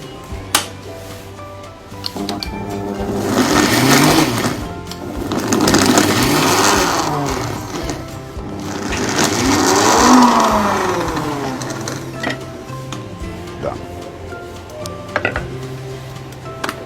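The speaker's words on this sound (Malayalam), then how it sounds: "നമ്മളിപ്പോൾ മിക്സിയിലാണ് അരയ്ക്കാൻ പോകുന്നത്." An electric mixer grinder grinds coconut chutney with green coconut oil in loud whirring bursts, rising and falling in several pulses, close and steady, with short pauses between runs.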